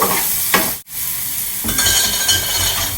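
Homemade coarsely pounded spice mix of cloves, cardamom and cinnamon lightly roasted in a pan for fish curry, a loud close dry rustle and scrape of stirring with a brief pause before the stirring resumes.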